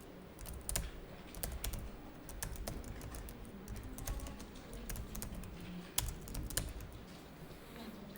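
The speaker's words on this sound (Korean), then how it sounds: "엔터 친 다음에 그대로 타자하는 거예요" Fast, irregular typing on a computer keyboard during an accounting software exercise, with crisp key clicks and occasional heavier strikes like an Enter key, quiet and close, no voices.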